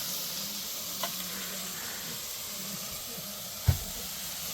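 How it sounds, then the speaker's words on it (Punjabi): Spices sizzle in hot oil for a tadka at a temporary camp kitchen on the trek to Roopkund, producing a steady, even hiss with a single soft knock near the end. "ਉੱਧਰ ਤੜਕਾ ਲਾ ਰਿਹਾ ਹੈਗਾ"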